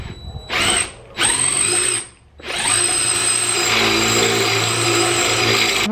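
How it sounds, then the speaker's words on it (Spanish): Power drill boring a hole for a large spoiler on a Mitsubishi Evo X, a loud whining bit that starts, stops briefly, then grinds steadily through metal, close and dominant. "Le voy a hacer el pinche agujero."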